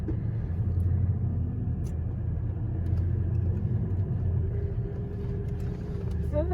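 A car drives over sand on a South Australian beach, giving a continuous, close, low rumbling hum that holds steady the whole time.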